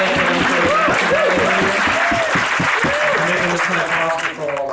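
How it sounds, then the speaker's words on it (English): Applause for the hosts at an evening wedding reception, loud and close, with a voice talking clearly over the continuous clapping throughout. "I think they're deserving a round of applause"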